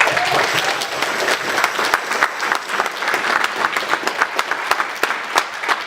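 A large audience at a Christmas show gives loud, sustained applause, a dense wash of clapping that stays strong throughout with individual claps standing out.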